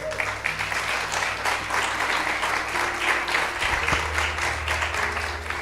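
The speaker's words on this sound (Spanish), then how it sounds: "Entonces denle un aplauso al Señor." Steady applause from a church congregation, dense and sustained throughout with some faint background hum.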